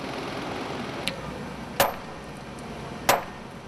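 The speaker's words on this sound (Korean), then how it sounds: "수없이 계속되는 망치질" A hammer strikes landscaping stone at a large Onyang stone quarry: three sharp, separate impacts ring out over a constant background hiss, the last two louder than the first.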